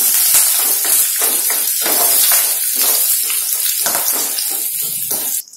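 Thin coconut slices fry in a pan with a loud, close, continuous sizzle, pulsing as the slices are stirred, cutting off abruptly at the end.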